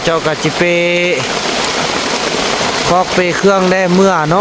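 Rain falls in a forest during the rainy season, a steady broadband hiss that fills the pauses and runs beneath someone talking loudly at the start and end.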